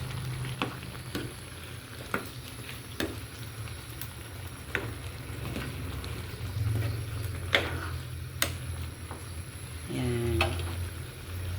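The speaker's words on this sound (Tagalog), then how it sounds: "Yung ating ginisang kamatis na may itlog." Tomatoes sautéing with egg in a pan, a steady close sizzle and frying hiss with repeated scraping and stirring clicks, one short voice briefly audible near the end.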